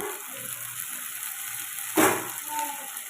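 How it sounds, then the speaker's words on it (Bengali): Puti fish are added to cabbage frying in a pan; a constant close sizzle with a sudden louder hissing surge midway as the fish go in, then a settled fry. "তো বন্ধুরা দেখো আমার বাঁধাকপিটা কষানো হয়ে গেছে এবার মাছগুলো দিয়ে দেবো"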